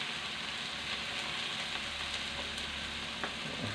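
Chopped spleen sautéing in a pan, a steady dense sizzle and crackle throughout, close and even, with no talking.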